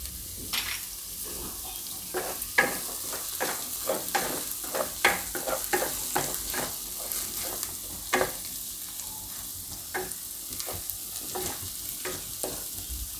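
Potatoes and onions frying in a pan, a continuous sizzle broken by frequent rhythmic scraping strokes of a stirring spoon, close and fairly loud.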